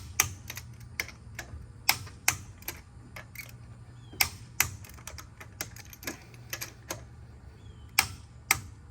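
A torque wrench set to 150 tightens bolts, giving a string of sharp, crisp clicks in an irregular rhythm, some close and loud, others softer, over a low steady hum with no talking.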